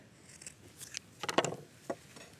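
Scissors cut through woven padding material in a few short snipping bursts, near and fairly quiet, with brief pauses between cuts and no talking.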